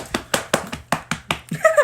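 Sharp single hand claps, about eight of them in a steady rhythm, close and fairly loud indoors, with a brief tonal sound near the end.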